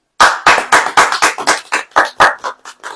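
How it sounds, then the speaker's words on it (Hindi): A church congregation clapping in unison during a sermon: about a dozen sharp, evenly spaced claps in a steady rhythm, loud and close, with no voices. "ताली बजाओ,"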